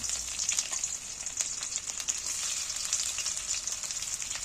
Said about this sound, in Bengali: কাটা পেঁয়াজগুলো তুলে দিচ্ছি